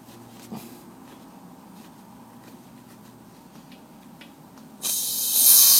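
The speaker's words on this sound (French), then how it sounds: "c'est de dévisser la vis de purge en bas pour purger votre compresseur" An air compressor is purged through its bottom drain screw. After a few seconds of quiet workshop background, a loud, steady rush of hissing air bursts out and keeps going.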